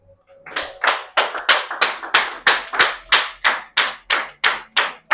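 A church congregation claps in unison, about a dozen loud, evenly spaced rhythmic claps with no other sound between them.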